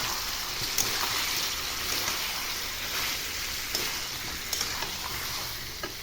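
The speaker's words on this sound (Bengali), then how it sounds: "এবার আমি দিয়ে দিচ্ছি বড় বড় করে কেটে রাখা ক্যাপসিকাম।" Large chopped capsicum pieces frying with lightly browned chicken breast in a pan, a steady close sizzle with occasional sharp crackles and stirring.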